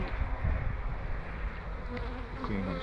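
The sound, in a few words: honeybees buzzing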